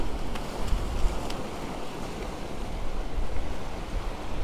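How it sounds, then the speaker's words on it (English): Ocean swells surging and breaking against coastal rocks, a steady broadband roar of surf with gusting wind buffeting the microphone throughout, no distinct individual crashes standing out. "What I'm worried about are the swells coming through."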